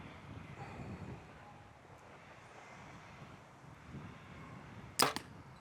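An arrow loosed from a bow outdoors on a windy day, a single sharp snap of the release followed by a quick thud, after several seconds of low gusting wind noise.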